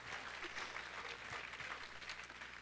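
An audience at a school drama show's curtain call claps in steady, dense applause throughout, a close wash of many hands with no voices standing out.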